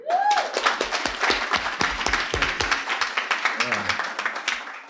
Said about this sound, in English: Let's give a good round of applause to Roderick Klugh